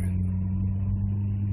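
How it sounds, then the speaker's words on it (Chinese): A car engine hums steadily with a strong low drone while a learner driver floors the accelerator during an on-road driving lesson, the sound close and continuous inside the cabin. "直接灌油门"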